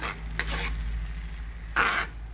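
Sardines with egg and tomatoes are stirred in a pan, with a soft background sizzle and two distinct scraping strokes of a utensil, one early and one louder near the end. No one speaks.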